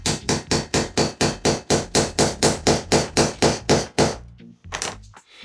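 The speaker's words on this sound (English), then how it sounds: "take a screwdriver, position it, and tap on the screwdriver." A hammer strikes a screwdriver in a fast, even series of about fifteen sharp metallic taps, fixing a drywall track to a concrete floor, then pauses before a couple of final knocks.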